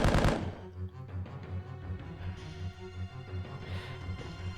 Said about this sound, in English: the flames are all like enemies, so you can shoot them